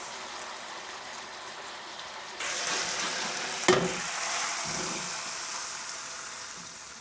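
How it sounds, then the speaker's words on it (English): Ribeye steak cubes for Vietnamese shaking beef sizzling in a pan, a soft hiss that jumps louder partway through, with a brief clank of utensil or pan, close and without talk. "I'm going to let this simmer down a little bit"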